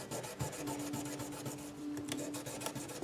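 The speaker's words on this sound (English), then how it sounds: "I just hit these frets like this, a little 1000 grit. Gets the dirt off of there, polishes them up a little bit." Fine 1000-grit sandpaper rubbed over guitar frets during a setup, giving a steady dry rasping scrape in quick repeated strokes, close and moderately loud with no talk.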